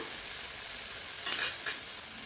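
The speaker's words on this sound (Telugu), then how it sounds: "ఇక కారము ఉప్పు పసుపు ధనియాల పౌడర్ అంటే అన్నీ వేసేసుకొని ఒకసారి బాగా కలిపేసుకుందాం" Chilli, salt, turmeric and coriander powder are stirred into cooked tomatoes in a hot pan, with a soft, steady sizzle and a couple of brief scraping strokes near the middle.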